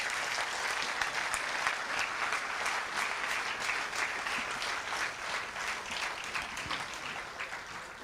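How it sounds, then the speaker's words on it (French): An audience applauds the newly installed municipal council of Basse-Terre, giving a long, even wash of clapping that stays steady for several seconds before easing slightly, moderately distant and without talk. "je vais vous demander de les applaudir tous autant qu'ils sont"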